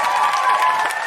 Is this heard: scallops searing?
no